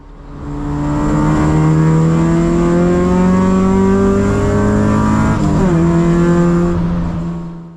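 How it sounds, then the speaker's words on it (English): An endurance race car brakes hard into a corner at a 24 Hours of Lemons race at Gingerman, heard onboard. The engine roars loud and steady, then the note drops sharply with a quick downshift before settling lower. "Braking hard in a straight line, late braking into the corner, taking it on, and then reducing the pressure on the brakes"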